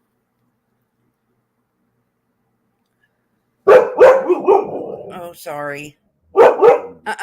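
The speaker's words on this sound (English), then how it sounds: "please excuse the dog barking." A dog barks in a few sharp bursts close by, interrupted and overlapped by a person speaking briefly, after several seconds of silence.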